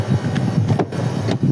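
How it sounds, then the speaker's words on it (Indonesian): The front air conditioning compressor of an MG4 EV electric hatchback runs with a steady mechanical hum and a rhythmic pulsing whir, loud and close, with faint clicks repeating about every half second. "Nah ini bunyi kompresor"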